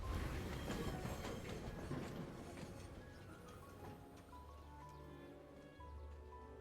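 A train car in the Syberia: The World Before video game rattles steadily along the rails, a dense rumbling clatter that is loudest at first and eases to a lower rolling drone.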